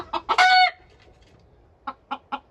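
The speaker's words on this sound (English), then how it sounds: "Every video that I film out here, you hear him crowing non-stop." A gamefowl rooster of Mule Train stock crows once, loud and close, followed by a few short clucks after a brief pause.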